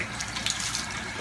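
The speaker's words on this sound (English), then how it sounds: "Rinse off some of the soap," Running tap water rinses soap off a razor, a steady close hiss of flowing water with no talking.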